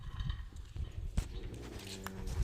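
Cattle led out of a shed on a farm, their hooves clopping and thudding irregularly on the ground at close range amid faint rustling and light background noise.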